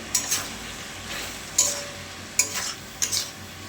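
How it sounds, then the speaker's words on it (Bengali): Banana blossom stir-fried with spices in a pan, with a steady sizzle punctuated by four sharp scraping strokes of a spatula against the pan. "কলার মোচাটা দিয়ে কিছু সময় ভালো করে কষিয়ে"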